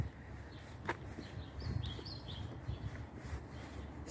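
Small birds chirp and tweet outdoors in mid-May among low-rise houses in Kolomyagi, St. Petersburg: a few thin, brief calls, faint and somewhat distant over a steady low background hum.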